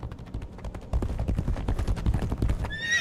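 Horse in a video game whinnying over a steady run of clip-clopping hooves, loud and close, with the hoofbeats growing stronger partway through and a high shrill neigh near the end.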